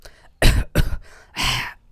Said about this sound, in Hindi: चंपिया और सुनरी ने खखार कर गला साफ किया।